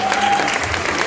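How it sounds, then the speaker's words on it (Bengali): At a packed film premiere at Nandan, an audience gives loud, close applause for the child actors: a dense burst of many hands clapping at once. "এটা ওদের জন্য জোরে হাত তালি প্লিজ"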